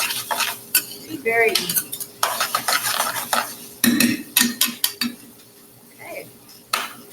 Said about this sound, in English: Now I like to move my pan back and forth while I move my spoon in circular. Stir it all at one time.